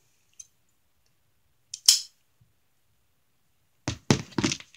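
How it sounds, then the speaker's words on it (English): Scissors snip off a loose yarn end on a crocheted sunflower washcloth, giving a faint tick followed by two short, crisp cuts close by, with quiet gaps between them. "I'll cut that end off."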